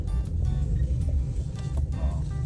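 A car driven home on local roads in Canada by a learner driver, heard as a continuous low, rumbling cabin drone with faint road noise, steady throughout and no talking.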